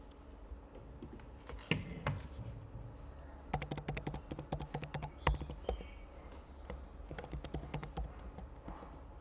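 Login details being typed on a computer keyboard for an SBI FASTag account, with quiet, close key taps in quick irregular runs and short pauses, no speech.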